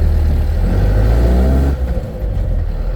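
The engine of a Land Rover Perentie 4x4 with a cold gearbox runs loud and close in a deep, rumbling idle, then the low drone dips and shifts partway through as the gear is sought.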